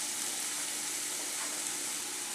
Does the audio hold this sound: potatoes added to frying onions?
yes